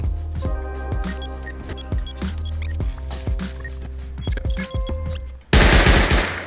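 An automated turret fires in the video game Rust, rattling off rapid, sharp shots in uneven bursts that end in a loud burst of noise.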